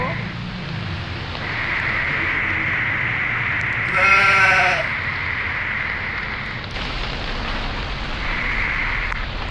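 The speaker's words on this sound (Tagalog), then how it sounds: "Super lakas ng ulan." Heavy rain pours down on a rainy day in Seoul, a loud steady wash of noise lasting the whole stretch, briefly broken by a short bleating animal-like cry partway through.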